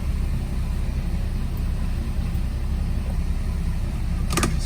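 A 1989 Porsche 944S2 idling after a cold start, a steady low rumbling hum heard close and alone, with a brief clicking near the end.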